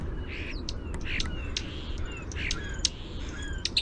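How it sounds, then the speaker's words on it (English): A European starling calls with a run of squeaky whistles, clicks and raspy chirps, faint against a steady low background hum, with no voices present. "That's what a starling sounds like."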